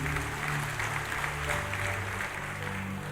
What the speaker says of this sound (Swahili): Pigieni makofi mazuri